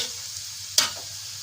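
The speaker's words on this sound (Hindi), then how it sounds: "इसका कलर चेंज होने तक चिकन की भुनाई करेंगे" Chicken frying in a pan for a homemade pizza topping, a quiet low sizzle with one sharp scrape or clink of the stirring utensil partway through.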